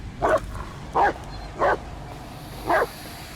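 A dog in the Blair Witch video game lets out four short, separate barks with a whimpering edge, spaced about half a second apart over a steady low background.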